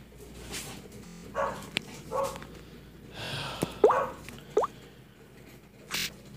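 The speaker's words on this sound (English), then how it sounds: "my dog was barking" A pet dog barking indoors in a few sharp, separate yips and barks spread across several seconds, moderately distant and somewhat muffled over a low room hum.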